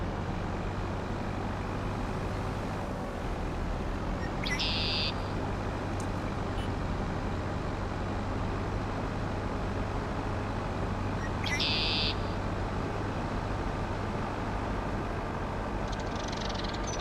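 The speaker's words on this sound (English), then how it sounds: "Wow, loud bird." Loud bird calls from Farming Simulator 25 on the Chipping Norton map in winter, two short bright bursts a few seconds apart over a steady low engine-like drone.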